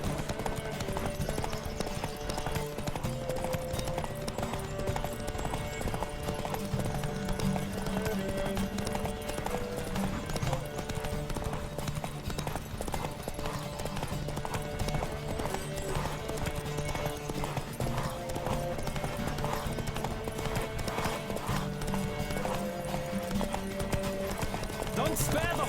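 Horses gallop in a race in The Witcher 3, hooves pounding in a fast, continuous rhythm for the whole stretch under a music score, with the occasional whinny.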